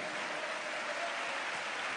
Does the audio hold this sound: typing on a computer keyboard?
no